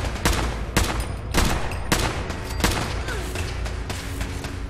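Gunfire in Fallout 4: a string of sharp, loud shots at uneven intervals of roughly half a second, each a hard crack, over a constant low background rumble.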